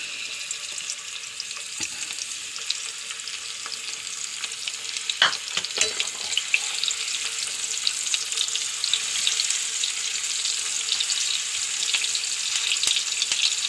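Steady, crackling sizzle of kora fish frying in hot oil, continuous and fairly loud throughout, with a few sharper pops and spatters near the middle.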